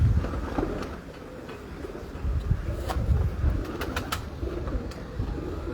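Pigeons of a well-known breed coo repeatedly in a loft or yard, soft low throaty calls layered over a steady ambient background with a few sharp clicks and faint chirps.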